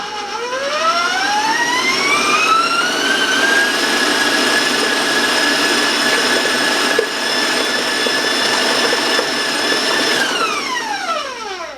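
An electric mixer beating spice cake batter with raisins ramps up to a higher speed, holding a loud, steady whine with a rising pitch at the start and a falling pitch as it stops.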